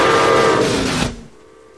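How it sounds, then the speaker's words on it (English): Toy model train running with a whistle-like tone over a dense rattling rumble, loud and close, cutting off abruptly near the end. "Father's playing with his trains."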